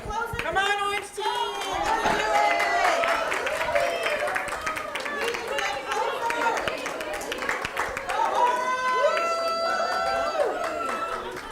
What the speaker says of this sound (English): I like the support and cheering.